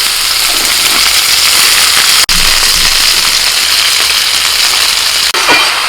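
Potato and cabbage hitting hot oil in a pan set off a loud, constant hissing sizzle, close up and unbroken, with no voices.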